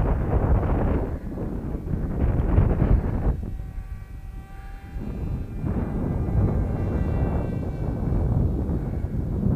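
Strong gusty wind roars and buffets an outdoor microphone continuously during a flight of a homemade RC F16 plane, loud and rumbling throughout with a brief lull in the middle.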